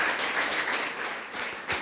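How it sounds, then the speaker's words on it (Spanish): Congregation applauding in a church service, a steady wash of clapping that holds evenly for under two seconds without any voice on top. "Pues dale un aplauso."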